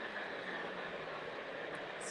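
A model milk train runs on a modular layout at a Train Collectors Association show, giving a steady, close rolling rumble and hum that continues evenly throughout.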